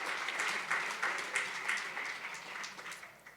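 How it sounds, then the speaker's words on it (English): Applause from a gala audience, fairly faint and distant, with soft rhythmic clapping that slowly fades over a few seconds. "Yeah, you can clap."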